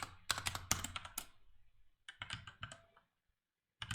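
Rapid typing on a computer keyboard, a dense burst of close key clicks, a pause, then another flurry, and a brief final patter after near silence.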